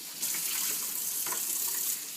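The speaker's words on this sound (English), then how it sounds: "Give it a little rinse." Water gushes steadily from a kitchen tap to rinse juicer parts, a continuous splashing hiss at close range with faint clatter of the pieces under the stream and no speech.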